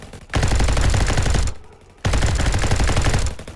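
Rapid automatic gunfire in a Roblox Call of Duty-style shooter comes as two loud, close bursts of dense repeating shots, each lasting over a second, separated by a short gap.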